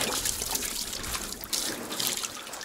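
Water from a flusher rinsing down a wide leather tanning beam during oak tanning of sheep and cattle hides, a steady close splashing and trickling wash with no talk.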